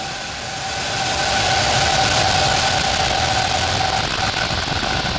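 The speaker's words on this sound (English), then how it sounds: "Ignition. Liftoff. Go Falcon." Falcon 9 rocket engines roaring steadily at liftoff for the IXPE mission, a broad continuous rumble that swells over the first second and then holds loud and unbroken, heard from a distance with no talk.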